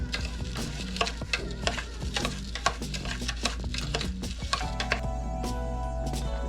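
Breadcrumbs being stirred into melted butter in a bowl, a dense run of rapid, close scraping and tapping strokes from a utensil, with a faint steady hum underneath.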